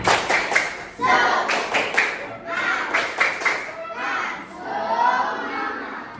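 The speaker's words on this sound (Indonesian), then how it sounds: "Tepuk semangat." A fifth-grade primary school class performs the 'tepuk semangat' chant, sharp claps in rhythmic clusters between loud shouted chanting from many children, close and lively.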